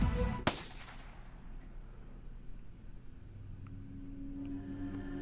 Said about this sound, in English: There really was a gunshot!